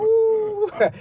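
A person imitates a wolf howl with a single sustained, wavering note that breaks into a short strained vocal sound at the end.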